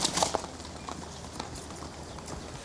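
Horse hooves clip-clop in a steady walking rhythm, a series of moderate, fairly close knocks heard alone without talk.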